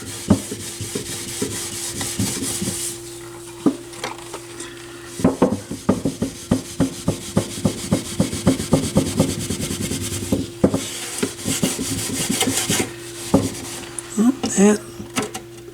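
Wax-and-oil polish rubbed by hand onto the wood cabinet of a Sony STR 6036A stereo receiver: steady back-and-forth scrubbing strokes in quick rhythm, close and fairly loud over a constant background hum.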